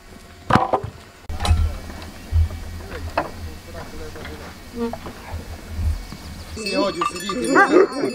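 A flock of sheep being moved to high mountain pasture from Lazeshchyna village bleats in overlapping calls, building toward the end, while someone talks over the scene and occasional thumps and barks sound nearby.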